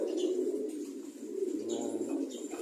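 Pet pigeons coo in low, soft rolling calls that repeat steadily and sound close by, with no talking over them.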